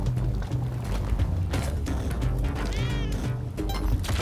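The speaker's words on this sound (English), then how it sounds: "where's Mr. Kitty? He's down there" Cat meowing in the video game Spelunky 2, a short mew sounding over busy, steady game music and mechanical clatter.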